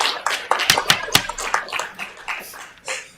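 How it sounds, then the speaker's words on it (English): Scattered applause breaks out in a Fargo City Commission business meeting, a short burst of uneven hand claps from a few people in the room that thins out and fades after a couple of seconds. "We don't clap in this meeting"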